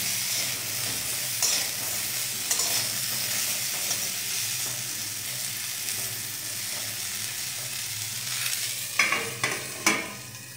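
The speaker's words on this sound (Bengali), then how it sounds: "খুব কম তেল দিয়ে দিয়ে ভাজবো আমি স্বাস্থ্যের কথা ভেবে।" Vegetables for khichuri fry in a little oil in a pan: a steady close sizzle and hiss runs throughout, broken by occasional scraping stirs that grow into a quick burst of spatula strokes near the end.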